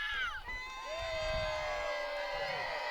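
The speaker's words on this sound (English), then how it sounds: "I heard a couple of people cheer" Crowd at an indoor wrestling event cheering and whooping for a wrestler, loud and continuous with shrill shouts rising and falling throughout.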